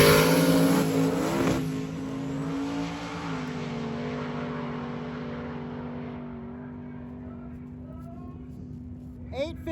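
A Camaro roars down the strip at a drag-n-drive event, a loud revving engine note rising then fading as the car pulls away, with crowd and track noise beneath.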